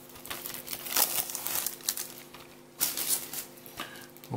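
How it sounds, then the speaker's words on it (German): Packaging of a PS4 Lego Worlds game box crinkles and rustles close up during unpacking, in irregular bursts of crackling plastic and paper with brief pauses between handling. "Und jetzt packen wir das Ganze mal aus."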